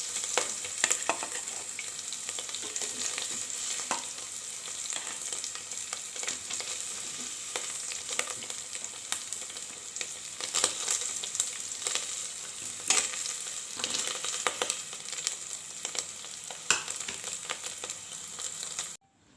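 Paneer fries in a pan for palak paneer pulao, a steady close sizzle with frequent crackles and stirring scrapes that runs continuously without speech before cutting off at the end.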